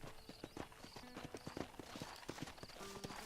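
A horse's hooves clip-clop in Red Dead Redemption, a quick, steady rhythm of close hoofbeats running alone throughout.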